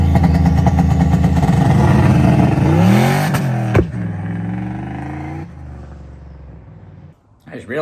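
A modified street car's engine revs loudly and close by under acceleration, its pitch sweeping up through the gears with a sharp crack mid-pass before dropping to a lower drone.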